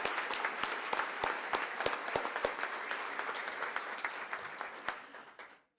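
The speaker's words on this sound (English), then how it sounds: "how about one last round of applause" An audience at an awards ceremony claps steadily for several seconds, individual claps standing out, before the applause fades away.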